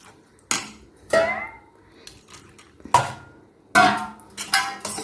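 A spoon stirs a chilled milk drink in a glass, producing several bright, ringing clinks against the glass at irregular intervals with quiet pauses between them.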